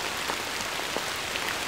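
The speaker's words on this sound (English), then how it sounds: "rain's coming down" Steady rain pattering down outdoors in a wild setting, a dense continuous hiss of drops on surfaces with no pauses, fairly loud and close throughout.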